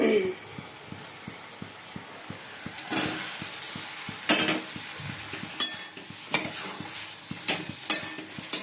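Potatoes frying in a pan of cooked-down spice masala, stirred with a steady, rhythmic scraping and tapping over a low sizzle, with a few louder clatters of the utensil against the pan.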